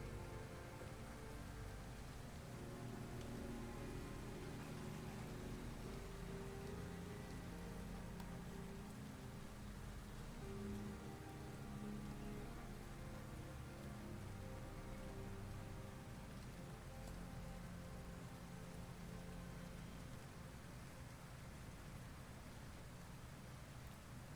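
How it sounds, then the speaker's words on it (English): Rain falls in a steady, even hiss with soft pattering on surfaces, continuous and fairly quiet, with no voices and no clear breaks across the stretch. "Can't get enough of this rain."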